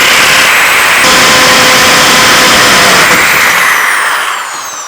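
An electric drill bores a hole in a launch base for an MOBFOG rocket. It runs as a loud, continuous high whine with an even tone for several seconds, then winds down at the end, with no voices heard.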